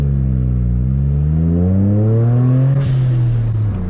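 A modded Toyota GR Corolla accelerates hard from inside, its engine note climbing steadily through the revs, with a short, crisp exhaust pop near the end before the pull continues.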